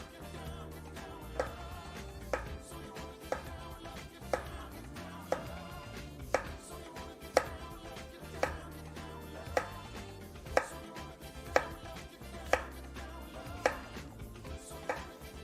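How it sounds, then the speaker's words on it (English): A kitchen knife slices food into quarter-inch planks on a cutting board for a poke bowl, sharp distinct taps falling in a slow, even rhythm about once a second, close and alone. "I'm going to cut 1/4 inch wide slices, or planks"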